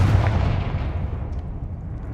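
A Confringo fire-curse explosion in Hogwarts Legacy: a loud, booming blast with a deep low thump that quickly decays into a rumbling tail.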